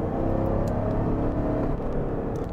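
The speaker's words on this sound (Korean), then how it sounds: "하지만 8기통의 이 소리," Chevrolet Tahoe V8 engine while driving, a full, steady low rumble and whir held at a loud, constant level throughout with no speech.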